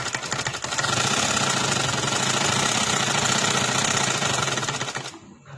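A sewing machine runs steadily while stitching fabric for a baby girl's frock, a continuous rapid mechanical whirring and ticking that starts after a brief lead-in and stops abruptly near the end.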